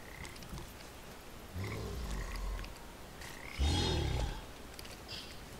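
A frog croaks in the video game Papo & Yo, a few low, deep croaks heard in short bursts over quiet game ambience.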